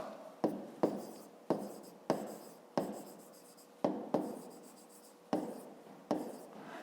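Pen writing on paper during a fifth-grade maths exercise, a steady scratchy scrawl broken by about a dozen sharp taps as strokes start, close and fairly loud with no voices.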